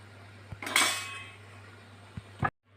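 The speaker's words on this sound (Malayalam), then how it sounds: "ഇതെല്ലാം കൂടെ നമുക്കൊന്ന് മൂടി വെച്ച് നമുക്ക് വേവിച്ചിടണം" A metal lid clanks onto a cooking pot of rice, with a bright clatter followed by a couple of lighter taps and knocks, close and quiet in an otherwise still kitchen.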